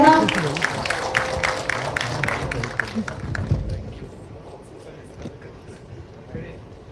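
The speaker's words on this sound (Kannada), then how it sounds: "ಜೋರ ಚಪ್ಪಾಳೆ" Loud applause from an audience at a film song launch stage event, dense clapping that is strongest at the start and fades over several seconds, with crowd noise and voices underneath.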